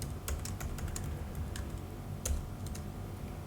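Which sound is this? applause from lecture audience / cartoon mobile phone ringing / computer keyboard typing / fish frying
computer keyboard typing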